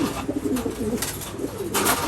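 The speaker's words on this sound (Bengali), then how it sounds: "এটা হচ্ছে আমাদের স্টেফেন ল্যাম্বার্টসের মাদি, এটা জোস্টের সেলের সাথে পেয়ারিং ছিল" Pigeons in a breeding loft cooing close by, a series of soft, throaty rolling coos repeating over about two seconds against a low background hum.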